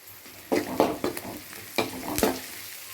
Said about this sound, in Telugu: ఆనియన్స్ కొంచెం మగ్గే వరకు మూత పెట్టి మగ్గించుకోవాలి